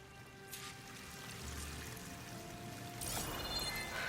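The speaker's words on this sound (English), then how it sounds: "That waterfall must be coming from somewhere." Rushing water from a waterfall in the video game Horizon Forbidden West, a soft, steady wash of pouring water that stays faint and even, with a slightly fuller surge toward the end.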